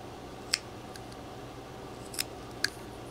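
Three sharp, close snips of scissors cutting while a miniature soap doll is whittled, spaced irregularly over a quiet background.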